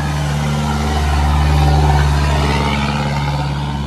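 A modified, heavily loaded stake-bed cargo truck rolls past on a road near Mae Sot, its loud engine drone swelling as it nears and easing slightly as it moves on.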